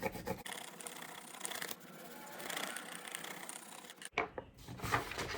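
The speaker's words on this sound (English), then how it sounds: "you're gonna choose one color and then you're gonna rub it, and it's gonna pick up the leaf in front" Crayon rubbed back and forth over paper laid on a leaf to make a leaf rubbing, a steady close scratchy scraping that runs for about four seconds before a brief pause and a few lighter strokes.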